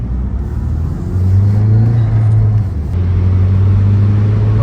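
Saab car engine with a large boost leak accelerating under load, a steady loud rumbling drone that climbs gradually in pitch, dips briefly near the end and then holds, with no speech.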